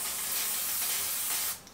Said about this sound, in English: I'm spraying our gummy sheet with coconut oil cooking spray